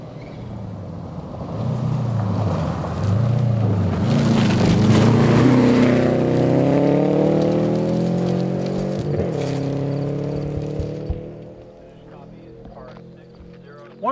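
A rally car on a gravel stage of the 2012 Olympus Rally roars past close by, its engine loud and climbing through the gears for several seconds before dropping away and fading into the distance.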